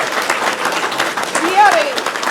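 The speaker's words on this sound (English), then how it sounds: "can we give a huge round of applause?" An audience at a Gen Con convention panel breaks into applause for game playtesters, a dense, even wash of many hands clapping throughout, with voices mixed in.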